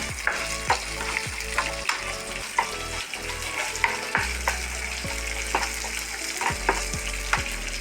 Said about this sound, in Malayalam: പിന്നെ ഒരു 6 ചുവന്നുള്ളി ചതച്ചെടുത്തത്, എല്ലാം കൂടി ഒന്ന് ഫ്രൈ ആവട്ടെ.